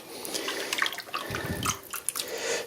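Water splashes and trickles as it is mixed one to one with Hemex lime in a bucket, a brief wet sloshing with soft drips, close and fairly quiet.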